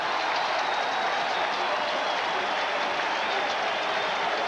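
Football stadium crowd at a 1987 Dallas Cowboys at New England Patriots game roars steadily after an 18-yard quarterback run, a dense, sustained wash of cheering and applause.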